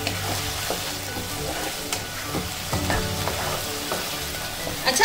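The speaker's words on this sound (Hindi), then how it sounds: "अब हम इसमें 1 चम्मच जिंजर गार्लिक पेस्ट डाल देंगे। ये भी इसी के साथ भून लेंगे।" Ginger garlic paste frying in a pan for gatte ki sabzi, with a constant close sizzle under repeated stirring scrapes and clatter, and no voices.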